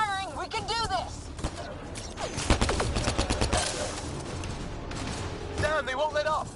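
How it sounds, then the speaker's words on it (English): Rapid bursts of gunfire crackle through a frantic firefight in the video game Mass Effect Andromeda, dense and continuous, with shouting voices over the shooting. "Just keep firing, we can do this!"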